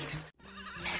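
A sheep in the Toy Story film bleats twice in quick succession, each a short wavering cry heard close and clear.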